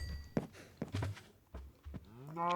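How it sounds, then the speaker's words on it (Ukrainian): A few short, low cow moos from a zombie-apocalypse survival video game, in quick succession, fairly close, with a longer rising moo at the end; no talking. "Знову вийшов покормити корів."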